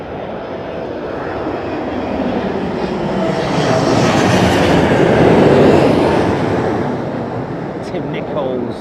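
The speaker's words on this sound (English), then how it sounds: "Aidan Campbell, Qatar 777 freighter inbound." A Qatar Airways Boeing 777 freighter arrives at London Heathrow in high winds, its broad jet roar and rushing wind swelling to a peak and then easing, loud and continuous.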